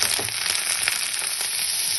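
Chopped ridge gourd goes into hot oil with ginger paste, giving a constant close, bright sizzle and crackle with a few small spatters, and no talking.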